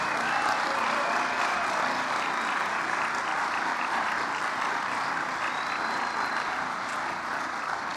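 Sustained applause from a school audience at a National Honor Society induction ceremony, a dense, steady wash of clapping that holds at even loudness for the full eight seconds with no voices over it.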